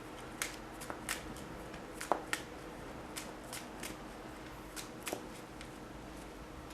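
A deck of Magic: The Gathering cards being shuffled by hand, with a series of soft, crisp riffles and flicks at close range, irregularly spaced and heard alone over a faint steady hum.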